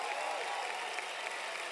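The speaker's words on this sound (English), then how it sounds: "Let's give our co-founders and ACN another big round of applause." Steady applause from an audience at a leadership talk for the ACN co-founders, a dense, even wash of many hands clapping at a fairly distant level with no voices standing out.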